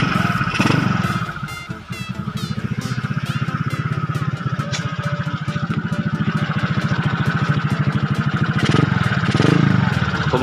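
A Suzuki Skywave scooter with a bored-out engine revs up close and loud in a workshop, holding a rapid, throbbing, bassy pulse with rises in pitch throughout and a short dip early on.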